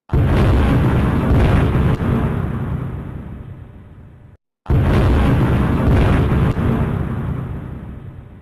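A 16-inch battleship gun firing, heard twice: each shot is a massive booming blast that rolls into a long, slowly fading rumble, separated by a brief cut of silence.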